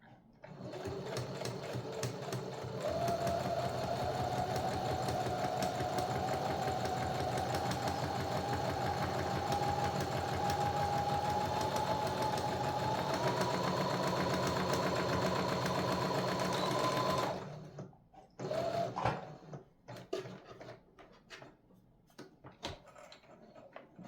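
Sewing machine stitching a fabric dog bandana, a steady close mechanical whir with rapid needle clatter running for about fifteen seconds, then stopping, followed by a few handling clicks and rustles.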